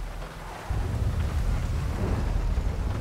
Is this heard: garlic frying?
no